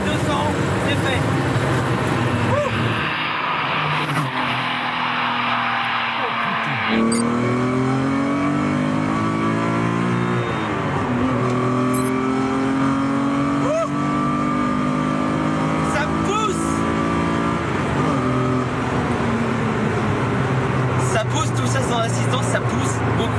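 TVR Tuscan Speed 6 driven flat out in fourth gear up to 200 km/h, a loud, close engine note that climbs steadily after a gear change, with rising road and wind roar.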